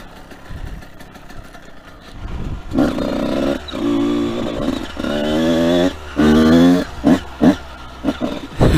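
A 125cc motorcycle revs hard in bursts while doing a burnout, the engine climbing and dropping in repeated loud surges close by after a quieter start.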